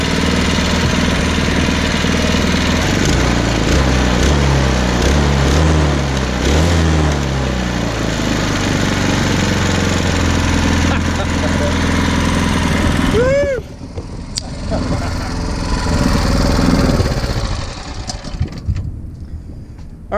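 A small engine lubricated with bacon grease in place of oil is pull-started and runs at full throttle, a loud steady drone with a throbbing rhythm, then it cuts out abruptly and fades into quieter background noise.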